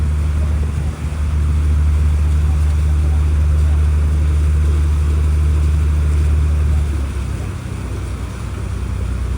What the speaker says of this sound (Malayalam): കേരളത്തിലെ ഏറ്റവും വലിയ കായലായ വേമ്പനാട്ട് കായൽ വഴിയാണ് ഇപ്പോൾ ബോട്ട് കടന്നു പോകുന്നത്